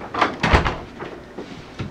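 An indoor door being pushed shut, a few dull knocks and rattles spread across two seconds, moderately close with a light room background and no talk over it.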